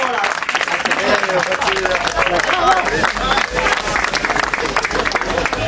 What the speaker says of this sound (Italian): un applauso per Nicola Tripodo